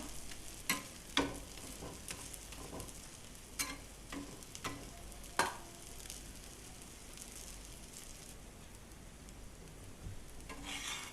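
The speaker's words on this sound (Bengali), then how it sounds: "ওটসের চিলাটা আমার লাল লাল করে ভাজা হয়ে গেছে" An oats chilla fries in a pan with a soft, steady sizzle, broken by several sharp clinks and scrapes of a spatula, then a quieter stretch of frying.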